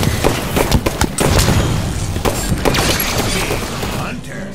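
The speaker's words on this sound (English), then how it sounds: "Grenade incoming!" A grenade goes off in a Halo 5 custom castle match, a loud boom and crash among scattered gunfire and impacts, with a voice calling out over the clatter.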